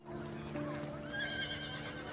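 A horse neighs in a quiet, low-level whinny over a soft background, with faint hoof clip-clop mixed in across the short stretch.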